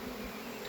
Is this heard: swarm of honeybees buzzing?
yes